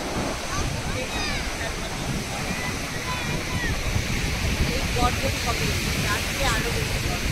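Sea waves surge and wash onto the beach at Gangasagar in a steady, broad roar that stays loud and close throughout, with voices talking faintly over the surf.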